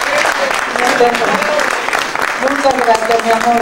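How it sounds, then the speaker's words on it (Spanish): Audience applause at an 85th birthday celebration in Miami, steady clapping running under a woman's warmly spoken thanks. "no tengo palabras con que agradecer estos aplausos que me han brindado"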